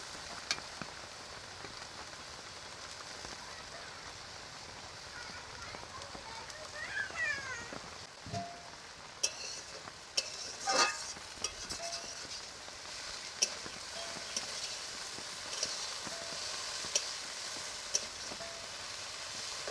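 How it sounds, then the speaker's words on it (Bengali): Potatoes with drumstick leaves fry in a pan, giving a quiet, steady sizzle with scattered crackles and occasional scraping stir sounds, and no one talking. "এই আলুর মধ্যে সজনে পাতাগুলো দিয়ে দিচ্ছি।"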